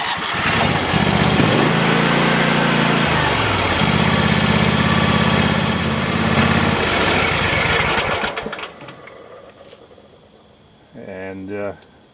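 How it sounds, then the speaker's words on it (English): A John Deere X590 lawn tractor engine runs steadily after an oil change, a loud, even drone with a wavering hum that holds for about eight seconds, then cuts off, leaving a quieter tail with a brief burst of sound near the end. "we'll run it for a second, let it fill up, look for leaks"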